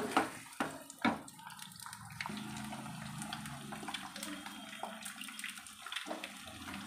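Egg fried rice sizzles in a pan with a steady, dense hiss, broken at the start by a few louder clinks and scrapes.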